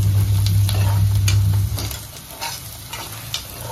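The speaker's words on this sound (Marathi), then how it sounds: "आता मी याच्यात कांदा घालून घेतलाय आणि कांदा छान लाल करून घ्यायचा" Chopped onion frying in hot oil in a pan, a continuous crackling sizzle with occasional stirring clicks and scrapes, loud at first and then settling slightly quieter.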